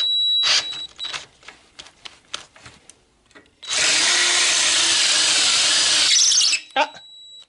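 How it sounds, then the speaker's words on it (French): Power drill with a larger bit boring into metal on a Citroën Traction 11B rear trunk hinge, a steady loud whine lasting a few seconds after some short clicks and handling noises. "je reprends encore un forêt de la taille au-dessus, mais là, je vais pas percer complètement"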